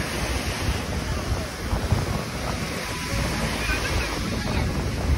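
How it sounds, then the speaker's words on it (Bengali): Sea waves surge onto the beach at high tide at Mandarmani, a continuous close, loud roar of surf mixed with heavy wind buffeting the microphone. "এই দেখো সমুদ্রের অবস্থা, এখন জোয়ার চলছে, জল একদম কাছেই চলে এসছে।"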